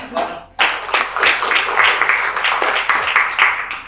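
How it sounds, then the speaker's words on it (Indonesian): Clapping from an audience in an Indonesian university classroom lecture, scattered claps building after a brief pause into a steady round lasting a few seconds, fairly close and moderately loud. "Tepuk tangan."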